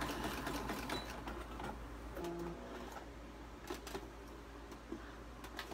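A sewing machine fitted with a walking foot stitches in a quiet room with a low steady hum, giving short mechanical whirs and clicks with a few sharp taps, mostly alone with no talking.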